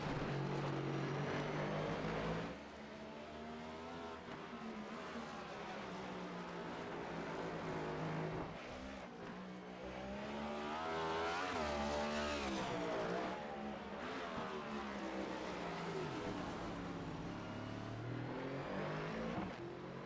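Stock cars lapping the Sonoma road course, a dense, continuous engine roar with shifting, rising and falling pitches as several cars pass close by, loud throughout with no talk.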